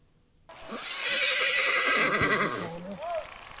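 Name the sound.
horse neighing in a video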